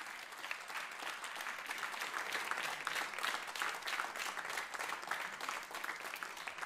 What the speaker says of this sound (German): ich bitte um einen kräftigen Applaus